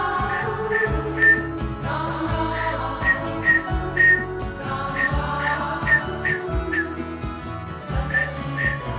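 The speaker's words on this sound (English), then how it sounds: "you're gonna start to whistle with the song" Melodic whistling follows a song during a Kundalini session, with bright repeated notes over steady background music.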